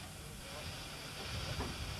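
Steam locomotive hissing steadily at close range, a broad continuous wash of steam noise with a faint rise near the end, running under a voice narrating.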